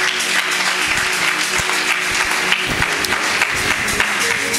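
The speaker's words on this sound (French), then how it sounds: "Nous acclamons très fort le Seigneur Jésus" A church congregation applauding loudly, a dense, sustained wash of clapping from a large crowd filling the room for several seconds.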